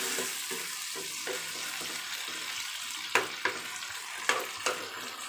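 Chicken pieces fry in a pan with a constant quiet sizzling hiss, then a handful of sharp utensil knocks and scrapes land near the end, close-up and alone without any voices.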